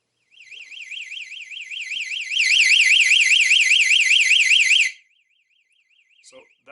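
An ultrasonic animal deterrent in turbo mode emits a loud, screechy warbling alarm that rises in intensity midway, holds steady for a few seconds, then cuts off, leaving a faint trailing tone.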